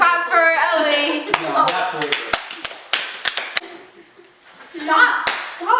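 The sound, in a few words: people clapping for Ellie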